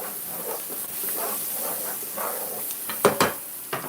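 Onion frying in a mix of butter and oil in a pan, a steady close hiss and sizzle, with a few sharp crackles near the end and no talk.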